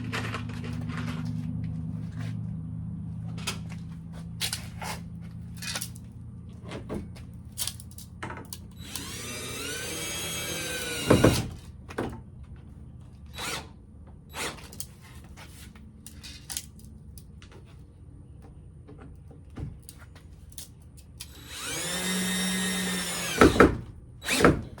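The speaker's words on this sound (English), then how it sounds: "So let's put a couple screws in and get it attached" A cordless power drill drives screws into the trim of a vintage camper bar, two sustained whirring bursts ramping up and stopping, surrounded by scattered taps, clicks and handling noises close by.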